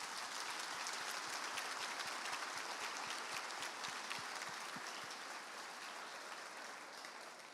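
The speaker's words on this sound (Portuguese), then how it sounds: "E uma salva de palmas para vocês." A congregation applauds during a church service, a dense, steady roar of many hands clapping that holds strong and then slowly tapers off toward the end.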